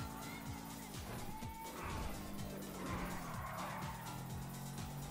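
A car drives in Grand Theft Auto V with a steady engine drone, shifting revs and tire noise, heard at moderate level without speech.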